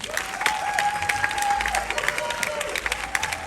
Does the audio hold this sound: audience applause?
yes